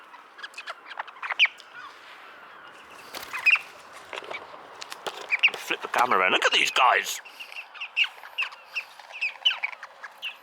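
Several birds call close by in short squawks and chirps, with one longer harsh burst in the middle, while a person talks over them.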